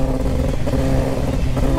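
A Yamaha XJ motorcycle engine that had fallen into a river revs with a rough, rattling drone, loud and close, holding a steady pitch with a clattery edge throughout.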